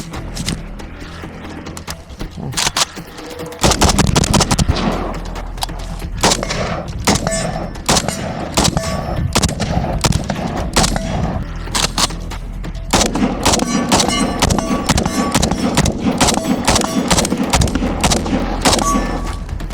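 Rapid gunfire from a Century Arms Romanian AK shooting TelaAmmo 7.62x39, with loud, sharp shots cracking in quick strings and bursts, close by, across roughly twenty seconds, and only brief pauses between volleys.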